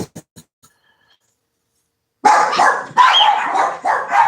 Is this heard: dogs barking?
yes